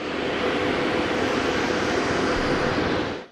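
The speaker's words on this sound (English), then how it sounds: "Putin then boarded the presidential plane and left Alaska." Presidential jet departing Alaska, a steady loud roar of aircraft engines heard from a distance and fading out at the end.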